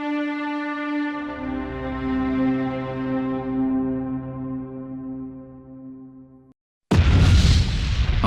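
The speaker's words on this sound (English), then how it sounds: "Archelon and Diego Navarro's beloved weapon Fenrir were ripped by explosions and engulfed in flames" Explosions in an Ace Combat X video game cutscene as a weapon called Fenrir is ripped apart and engulfed in flames: a long ringing, droning tone that fades out, then a sudden loud roaring blast burst.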